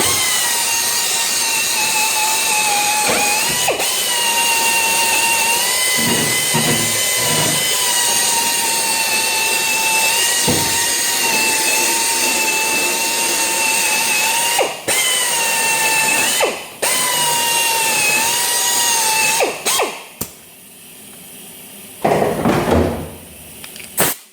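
Low-speed 700 RPM power tool with a twist wheel grinding rust off the body of an XF Falcon panel van, a loud sustained whining drone with brief dips as it lifts off the metal, then stopping near the end.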